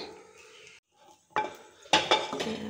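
An oiled metal wok for steaming fish in banana leaves clanks onto the stove, a few sharp metallic knocks and scrapes after a brief quiet gap, close by.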